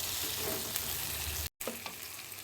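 Okra coated in mustard-poppy paste frying over low heat in a pan, a steady close sizzle with occasional stirring scrapes, briefly cut to silence midway before the sizzling resumes.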